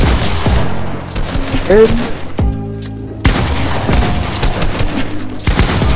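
Rapid bursts of gunfire from Fortnite Mobile gameplay crack loudly and repeatedly across the span, with a brief lull in the middle, while a player speaks briefly over the shots.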